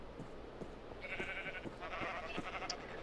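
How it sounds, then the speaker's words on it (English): Sheep bleating in the Minecraft video game, several short nasal bleats spread across a few seconds at moderate distance, fairly quiet, with no talk. "But at least we saved the sheep."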